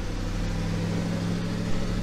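Triumph Stag engine fitted with Stromberg CD 175 carburettors idling steadily at around 1500 RPM, a constant low engine hum with no change in pitch, close and alone.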